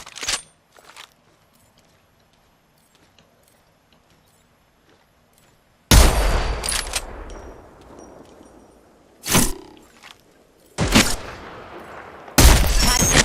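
Apex Legends gunfire sounds in several sharp bursts: a couple of early shots, then a loud volley with a ringing tail, followed by more separated blasts after quiet gaps.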